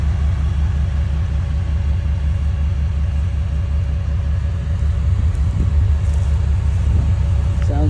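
A stretched Toyota FJ40 with a temporary exhaust runs steadily nearby, its low, even engine rumble continuous throughout, with a faint knock or two late on.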